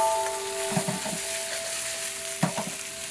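Garlicky crab meat sizzles steadily in a hot pan, with a few soft scraping stirs and clatters of a utensil against the pan.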